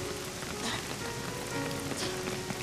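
Rain patters steadily on a surface, a dense, even wash of drops at a fairly faint level with no voices.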